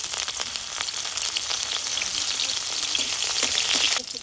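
Dry red chillies fry in hot oil in a home kitchen, a close steady crackling sizzle with scattered pops, continuing evenly and cutting off sharply near the end.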